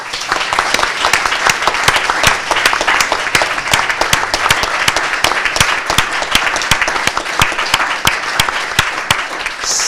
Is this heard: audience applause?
yes